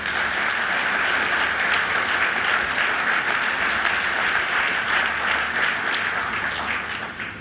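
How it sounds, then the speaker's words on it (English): Audience applause at a hospital expansion announcement, sustained dense clapping at an even level that fades slightly near the end, with no talking. "They deserve a round of applause."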